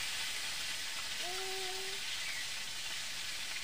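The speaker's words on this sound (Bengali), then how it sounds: "এই যে তেল আছে আমার কড়াটায়, এখন আমি এই মাছটাও দিয়ে নেব। এটাও ভাজি নেব এইভাবে।" Charapona fish frying in hot oil in a wok, a steady soft sizzle and hiss that holds evenly for the whole stretch, quiet and close with no talking.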